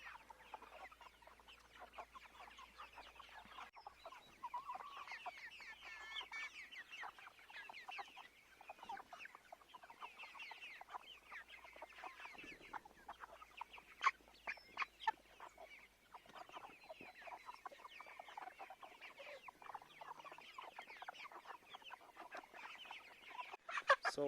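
Hens and chicks on pasture cluck and chatter steadily throughout, a dense flock close by with no talk over it.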